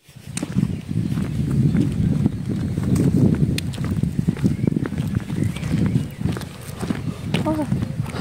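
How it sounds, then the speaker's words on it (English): Hooves clip-clop on hard ground in an uneven rhythm in a small French village while people talk nearby, with some wind in the background. "there's a horse there"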